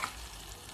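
Garlic sizzling in a large spoonful of melted ghee on a stovetop, cooked for green molokhia; a brief, close crackling fry hiss with some stirring.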